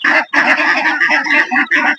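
A flock of home-raised ducks kept for sale calls in a dense, continuous chorus of loud, nasal honks and quacks close by. The calls overlap and break only briefly.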